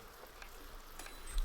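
Steady light rain in Stonehearth, a soft continuous patter of drops with faint ticks, quiet and even throughout with no voices.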